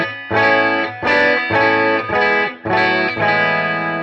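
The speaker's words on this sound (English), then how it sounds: "There is one sound I really don't love in this guitar, and it's the Rickenbacker 12 string." Digital guitar emulating a Rickenbacker 12-string with the octave strings turned down, strummed in about six bright, shimmering chords with chorus and slight distortion, loud and alone.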